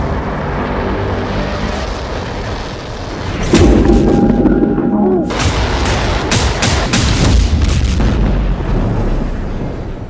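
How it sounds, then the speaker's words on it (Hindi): Explosions in Beirut in news footage, heavy booms and sharp blasts that come through rumbling, noisy background, loud and fairly close, with a spell of crackling bursts in the middle. "बैरूत में होने वाले धमाकों और इन हमलों के बीच"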